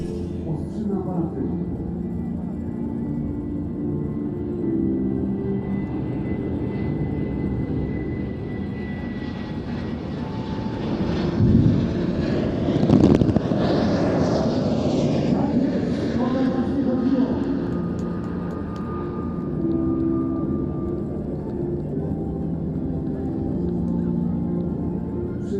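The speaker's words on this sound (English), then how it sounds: "we have one such surprise, the Wizz Air Airbus A321neo." A Wizz Air Airbus A321neo airliner performs a flying display at an airshow in Leszno, its engine roar swelling steadily to a loud peak as it passes close overhead, then easing off while staying prominent throughout.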